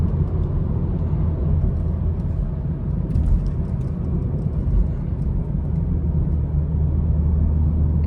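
A BMW 440i Gran Coupe xDrive with its muffler and resonator deleted drones with a deep, continuous exhaust rumble heard from inside the car while driving, steady and loud with no talk.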